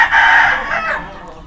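A gamecock crows once, loud and close, a short, drawn-out call with a throaty, clucking edge that fades at the end.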